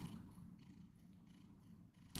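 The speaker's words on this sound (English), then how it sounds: "Can you hear him purring?" A cat purring softly and continuously at close range, a faint low rumble with no other sounds.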